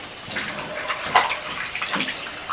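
Tap water running and splashing at a sink while someone washes their face, a close, steady gush with small splashes and no talk.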